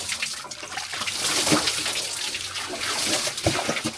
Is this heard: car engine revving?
no